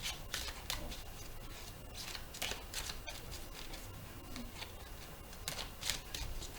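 A deck of playing cards being shuffled and cut, a continuous soft riffling patter with brief brighter flicks, close and fairly quiet, with no talking.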